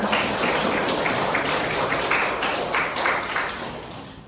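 An audience at a student presidential candidate debate applauds steadily, a dense, even wash of clapping that holds for several seconds at moderate level and tapers slightly at the end, with no talking over it.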